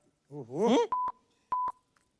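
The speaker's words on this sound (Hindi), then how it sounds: "हम कमिश्नर को फोन लगाएंगे बस।" Telephone keypad tones dial a number, four short clean beeps in two pairs coming right after a brief burst of a voice.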